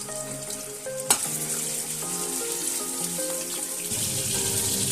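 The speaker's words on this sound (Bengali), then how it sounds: "এর মধ্যে চিংড়ি মাছগুলো দিয়ে আমি চিংড়ি মাছগুলো ভেজে নেব" Prawns frying in plenty of mustard oil, a steady close sizzle and crackle with a sharp burst early on, continuing without pause throughout.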